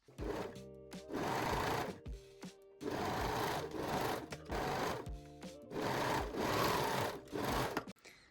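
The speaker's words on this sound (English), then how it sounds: "Now we can sew the center front seams." Close and fairly quiet, a sewing machine stitches the centre front seams of a cup-based lingerie bralette. It runs in three bursts of about two seconds each, with short pauses between them and no talking.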